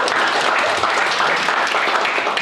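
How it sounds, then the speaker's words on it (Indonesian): An audience in a church service claps steadily, a dense, loud, even wash of many hands applauding continuously without a break. "Siapa yang diberkati oleh kesaksian Aldi, kasih tepuk tangannya."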